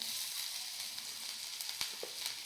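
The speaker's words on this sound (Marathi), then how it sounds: "आता त्याच्यामध्ये आपण बारीक चिरलेला लसूण बारीक चिरलेला अद्रक" Finely chopped garlic and ginger frying in hot butter or oil in a pan, a steady close sizzle with faint crackles and light stirring, with no talk.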